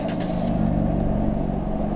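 A McLaren sports car passes nearby in a city street, its engine a steady, loud low rumble with a slight rise in revs, heard alone for about two seconds.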